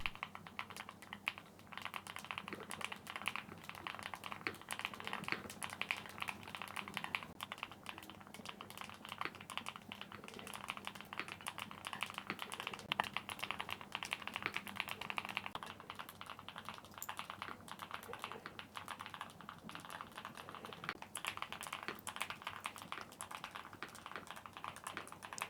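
Continuous, fairly quiet typing on a Galaxy 65 mechanical keyboard, a dense stream of soft clacky keystrokes at an even pace with no talking.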